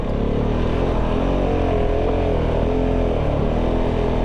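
Kove 450 Rally motorcycle ridden hard, a steady loud engine drone with rising and falling revs throughout, close to the bike and without pause.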